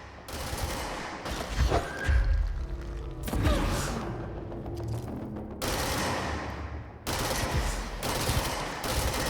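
Bursts of gunfire are aimed at flying enemies in a video game. Loud rapid volleys come in repeated bursts, with brief pauses between them.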